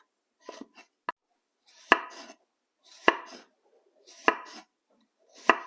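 A knife chops through wild kale stems in sharp, separate strikes, about five firm cuts spaced roughly a second apart, each one close and crisp, with no talking over them.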